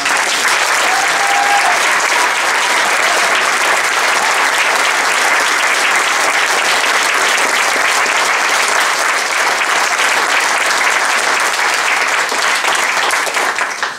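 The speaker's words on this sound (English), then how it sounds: "So please, a big round of applause." Sustained, dense audience applause at a Congressional sit-in rally on gun safety laws, a steady loud wash of clapping for about fourteen seconds with no break.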